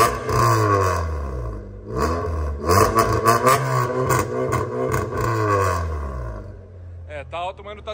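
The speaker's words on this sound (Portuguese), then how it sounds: "a gente vai dar uma pisadinha pra gente ouvir o ronco do carro." A VW Saveiro 1.6 MSI with 107 whp revs loudly up and down several times, close by, in a series of rising and falling engine pulls, and a voice speaks briefly at the end.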